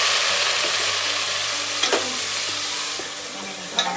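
Cumin seeds and garlic fry in a pan with a strong continuous sizzle, punctuated by a few brief stirring scrapes, close up and without talk.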